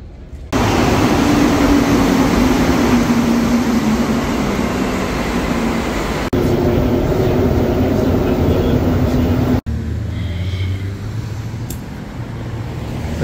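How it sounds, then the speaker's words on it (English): Inside McGill metro station in Montreal, a loud steady roar of a train or station machinery fills the platform, with a low hum and abrupt shifts in the noise, then a quieter stretch near the end. "we're inside McGill Station. We are awaiting our train."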